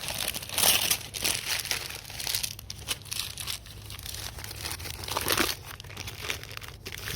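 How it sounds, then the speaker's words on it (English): Magazine paper crumpled by hand for painting texture, a steady close crinkling and rustling that rises and falls in bursts over several seconds, with no talk. "We'll take our magazine paper."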